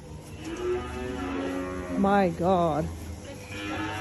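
Large cows on a farm moo loudly, with two drawn-out calls close by in the middle of the clip, while people talk around them.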